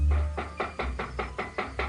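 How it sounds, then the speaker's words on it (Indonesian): Someone knocks on a wooden door in a steady series of about seven even raps, fairly close and clear, with a low rumble at the very start. "Ada orang mengetuk pintu."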